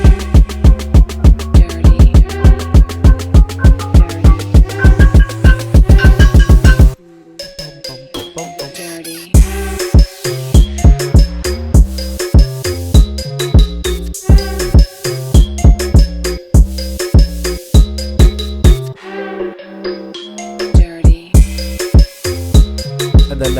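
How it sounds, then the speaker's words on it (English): A moombahton remix drop: a plucky build of rapid repeated synth notes cuts to a brief gap, then heavy, punchy beats with bright chopped stabs pound in a steady groove, loud and alone. "Put everything together and you got a drop that sounds a little bit something like this."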